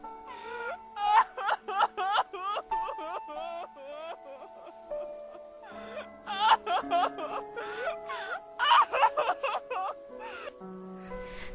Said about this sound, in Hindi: तभी अचानक माँ को रोने की आवाजें सुनाई दी।